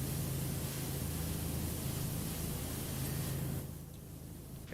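Power washer spraying in PowerWash Simulator, a steady, loud hiss that holds for several seconds and then eases slightly near the end.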